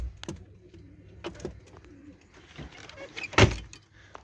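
A pair of pigeons sitting on eggs in a coop coo softly at close range amid scattered knocks and shuffling, with one louder burst near the end.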